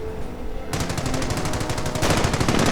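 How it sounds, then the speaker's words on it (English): Heavy machine gun fire in a WWII strategy game, a fast rattling burst of closely spaced shots that starts abruptly and keeps going, loud and steady with little talk over it. "And heavy machine gun fire, suppressing the Panzer Grenadiers and quickly dropping one."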